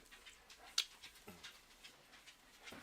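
A puppy pants softly and close by, with quiet rhythmic breaths and a faint whimper-like squeak amid low room noise.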